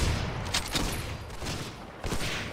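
Video game gunfire aimed at a grenade lying on the ground, a dense burst of shots packed close together, loud and near against steady game noise.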